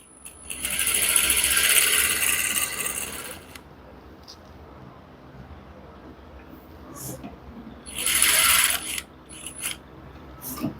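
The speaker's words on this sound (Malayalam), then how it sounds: "അതേപോലെ ഇങ്ങനെ വെച്ച് സ്റ്റിച്ച് ചെയ്ത് കൊടുക്കുക." Sewing machine stitching a crop top, two short bursts of fast, rattling mechanical whirring up close separated by a quiet pause, with faint handling noises between the runs.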